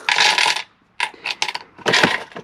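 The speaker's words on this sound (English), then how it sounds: "Let's go and put some coins in it and see how functional it is." Coins clatter and jingle into a coin holder installed in a 2006-2008 Subaru Forester, landing in three close bursts of bright metallic clinks.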